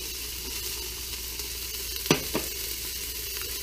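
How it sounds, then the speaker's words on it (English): Onions sautéing in melting butter, ready for corn chowder, make a steady close sizzle throughout, broken by two sharp clatters partway through, with no talking. "I've got my butter in here melting, and I'm going to add my onions"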